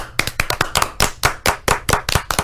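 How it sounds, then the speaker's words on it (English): A small handful of hands clap in a sparse round of applause, about a dozen sharp, close, fairly loud claps in a loose, uneven rhythm. "Round of applause."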